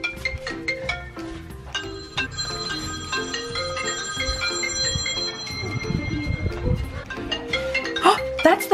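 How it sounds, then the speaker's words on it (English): An iPhone ringtone sounds from somewhere inside a cardboard box fort maze, a repeating electronic melody that rises midway under busy voices and clattering noise. "Oh, that's the phone."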